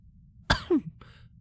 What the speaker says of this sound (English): Rarity gave a polite cough.